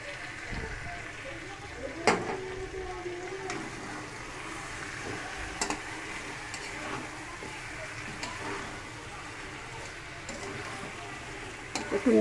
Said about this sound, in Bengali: আলু ভেজে চিকেনটা কষানো হচ্ছে।